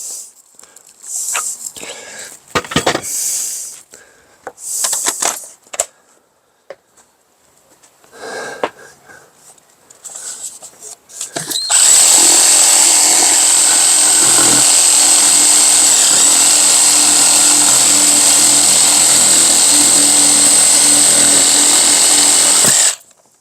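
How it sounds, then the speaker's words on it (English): Reciprocating saw cutting rotted wood during a single wide mobile home repair, starting about halfway through as a loud, steady, continuous buzzing cut after scattered quieter clunks and movement. "Let's go back to the reciprocating saw on this one."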